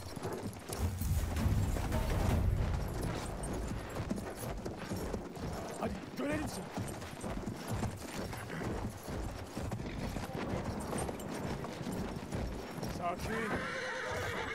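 Horses in the Battlefield 1 video game whinny loudly and gallop with steady clip-clopping hooves, set among dense battlefield noise and a voice talking over the action.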